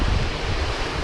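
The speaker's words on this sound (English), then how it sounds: "It's very windy at the moment." Strong wind buffets the microphone over a broad rushing roar of ocean surf on the coast of western Scotland or Northern Ireland, loud and constant throughout the short stretch, with no voices.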